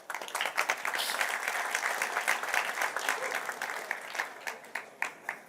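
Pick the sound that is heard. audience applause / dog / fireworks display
audience applause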